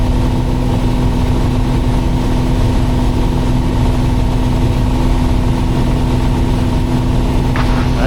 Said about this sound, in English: This is one engine, 300 horsepower.